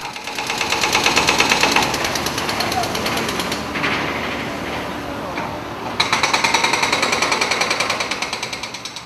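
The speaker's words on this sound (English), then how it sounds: "Right now, the city is definitely in construction season, with jackhammers aplenty." Jackhammers pound at street construction on a city street, a loud, rapid, steady hammering that pauses briefly midway and resumes, with a voice speaking over it.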